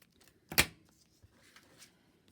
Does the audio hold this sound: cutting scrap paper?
yes